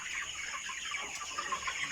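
A flock of 28-day-old broiler chickens inside a farm house keeps up a dense, overlapping chorus of soft clucks and chirps, steady and fairly close, with no one speaking.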